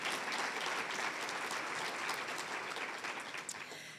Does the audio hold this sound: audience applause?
yes